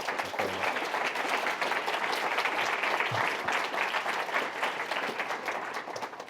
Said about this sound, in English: I think we should get a round of applause first.